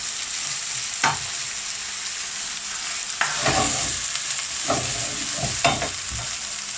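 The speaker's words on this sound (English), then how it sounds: "Fry the onion into the ghee and oil for about 2 to 3 minutes on high heat" Chopped onion frying in ghee and oil in a pan over medium-high heat for Rajasthani laal maas, a steady close sizzle with a few scraping stirs of a spoon, no voices.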